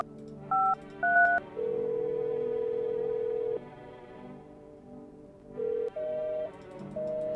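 Phone dialing in the video game No I'm Not a Human: a few short DTMF key tones, then a long steady ringback tone and later more tones and rings, clear and loud with no talking.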